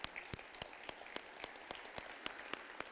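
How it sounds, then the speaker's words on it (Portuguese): Scattered, fairly faint hand claps from a church congregation during a communion service, sounding as separate sharp claps in an irregular rhythm rather than a dense ovation. "Mais uma salva de palmas para Jesus, então."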